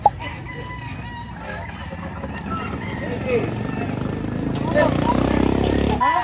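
Roosters crow and cluck at a busy chicken market in Lipa, Batangas. Repeated calls ring out near and far, with people talking and a motorcycle rumbling in the background.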